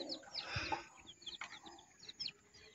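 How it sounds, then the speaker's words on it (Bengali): Small pet quail chicks cheep and chirp softly in short, scattered calls, faint and fairly close, with no one speaking. "এগুলো হচ্ছে আমার শখের কোয়েল পাখি"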